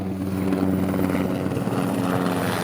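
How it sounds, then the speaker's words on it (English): Outdoors on a freezing cold day, a steady droning rotor-like engine hum fills the air, with wind and passing traffic blended into a continuous, fairly loud wash of noise and no talking. "outdoors on a freezing cold day with wind blowing and the sound of cars and helicopters all around"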